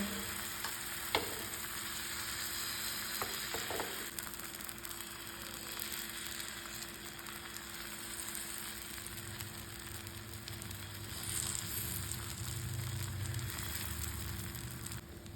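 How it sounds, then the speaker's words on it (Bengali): Batter made from flour and egg, spread thinly over an oiled griddle pan on medium heat, frying with a continuous soft sizzle and crackle, close and quiet, with a few light clicks of a utensil. "সেই বেটারটা অল্প অল্প করে দিয়ে দেবো আর পুরো প্যানের মধ্যে আমি এটাকে ছড়িয়ে নেবো"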